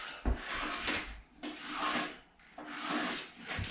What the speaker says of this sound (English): Scrape the excess off, scrape it into the bead, and scrape it off.